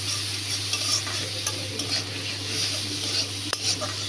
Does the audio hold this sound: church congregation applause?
no